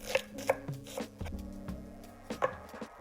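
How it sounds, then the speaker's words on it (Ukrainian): A few crisp knife strokes through red onion against a board, spaced unevenly, close and moderately loud, with no voices. "Так само нарізаю шматочок червоної цибулі."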